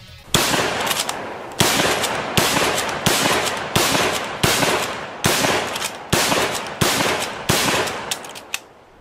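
A bolt-action rifle chambered in .303 British fires eight loud, close shots, each followed by a long decaying echo, spaced roughly a second apart with no talking.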